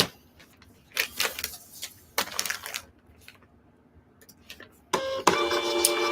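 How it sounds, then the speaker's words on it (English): A printer runs off eBay shipping labels, giving several short bursts of whirring and clattering separated by pauses, ending in a longer stretch of feeding and printing noise. "We're printing all these eBay labels right through eBay"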